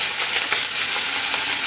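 Mustard seeds, dried red chillies, garlic, curry leaves and cumin sautéing in hot oil, a bright continuous sizzle with small crackles, close and steady without speech.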